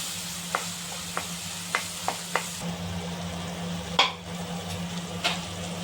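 Cauliflower and egg sizzle in a pan on a medium flame, a close, continuous frying hiss with several sharp scrapes and taps from stirring.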